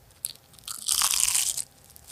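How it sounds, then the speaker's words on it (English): A crunchy caramelized pastry bitten close to the microphone, a sharp crackling crunch followed by a brief stretch of crisp chewing. "I'm gonna let the listeners hear how crunchy this is"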